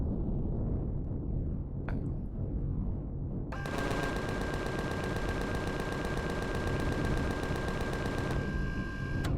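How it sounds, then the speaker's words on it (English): A gun fires rapidly and continuously in Empyrion Galactic Survival during a snowy base defence against Zirax troops. The loud, unbroken burst starts suddenly partway through and stops after about five seconds, with no talking. "Why am I only firing with one gun?"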